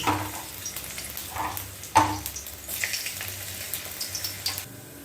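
Chopped ginger frying in hot oil in a wok for veg chow mein, a steady close sizzle with scraping stirs and a sharp burst of crackle partway through.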